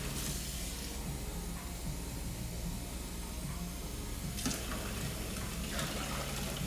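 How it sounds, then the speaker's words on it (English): Tap water runs into a pot for another cup of water for cooking, a faint steady hiss and gush that carries on evenly with a couple of small clinks. "1 more cup of water."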